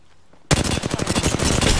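Rapid automatic gunfire in the Apex battle royale game bursts in suddenly after a short quiet moment, a loud, dense rattle of shots continuing to the end.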